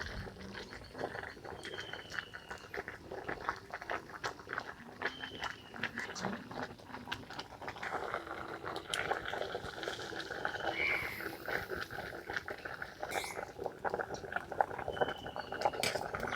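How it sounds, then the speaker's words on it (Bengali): Water drains from 80-percent-cooked biryani rice through a strainer, a steady, soft pouring and trickling rush that continues evenly throughout, with faint clinks now and then. "এইভাবে ছান্তার সাহায্যে কিন্তু জলটা ঝরিয়ে নিচ্ছি।"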